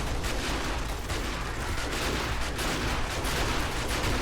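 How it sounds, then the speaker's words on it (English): A laser turret in the zombie survival game 7 Days To Die fires nonstop in a loud, dense barrage of rapid shots that roars without pause. "Now we got our laser turret going, so that should shred through this stuff"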